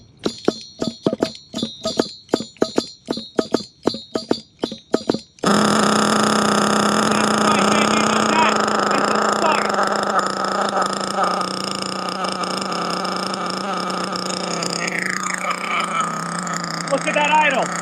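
A nitro HPI Savage X4.6 RC truck engine being broken in, first sputtering in short sharp bursts, then catching and holding a loud, steady high-pitched buzzing run with slight pitch wavering.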